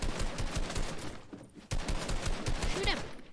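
Rapid bursts of gunfire in the Fortnite video game crackle almost continuously, loud and near, with a short lull in the middle before the shooting resumes.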